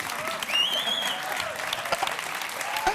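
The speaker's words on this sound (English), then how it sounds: "Please, a big round of applause" A gala audience at the European Youth Award 2014 breaks into a big round of applause, dense and sustained for the whole stretch, with a whistle rising briefly above the clapping.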